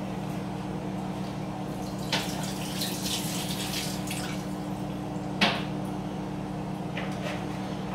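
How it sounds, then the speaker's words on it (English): Soaked hickory wood chips are drained of their water, a soft steady trickle and drip over a low room hum, with two sharp knocks from the container along the way. "I'm going to take my hickory chips that have been soaking for an hour, and I'm going to drain them"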